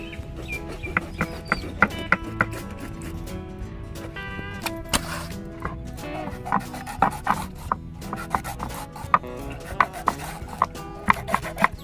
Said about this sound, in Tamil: நம்ம இப்போ கட் பண்ண போகிறோம்.